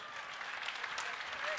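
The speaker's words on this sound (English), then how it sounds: "A round of applause to the Minister of Internal Affairs." A large audience at an official gathering gives a round of applause, a dense, even wash of clapping heard from a distance and held steady throughout.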